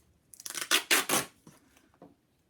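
A strip of duct tape is pulled and torn off the roll nearby, a quick series of loud ripping bursts followed by a few fainter crackles.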